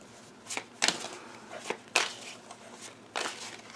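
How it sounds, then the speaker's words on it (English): Stiff playing cards being shuffled by hand, a handful of crisp riffling and snapping bursts spaced irregularly, close and fairly quiet with no talking. "Let me shuffle these a little better."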